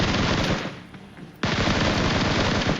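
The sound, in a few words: gunfire in a video game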